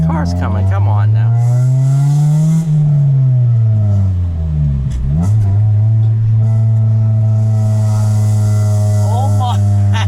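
A 2003 Honda Civic EX coupe with manual gearbox and aftermarket exhaust launches hard, its engine revving loud and close, rising, dipping through a shift around midway, then climbing again steadily.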